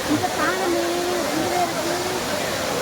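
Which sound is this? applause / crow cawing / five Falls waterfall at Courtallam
five Falls waterfall at Courtallam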